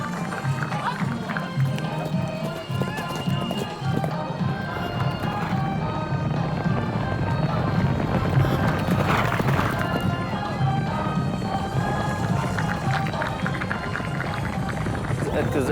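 Horses running at an Omani horse-and-rider event, a steady dense rumble of hooves and movement with crowd noise throughout, loud and continuous, with voices mixed in.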